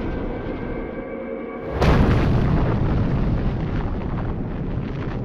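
A nuclear bomb explosion erupts as a sudden deep boom that swells into a sustained, loud, broadband roar and rumble, following a faint low hum.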